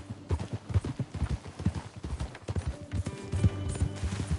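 Horse hooves clip-clopping steadily in Red Dead Redemption 2, a close, rhythmic trot of repeated thuds continuing throughout with game ambience underneath.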